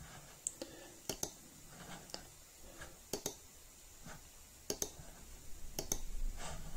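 Computer mouse clicks during robot programming software work, a dozen or so crisp, quiet single and double clicks spaced irregularly over a faint room hiss.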